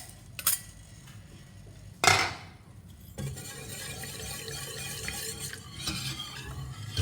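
A wire whisk stirs milk into bechamel sauce for a Greek moussaka, starting with a few metallic clinks and a sharp scrape against the pot, then settling into a continuous, moderately quiet swishing.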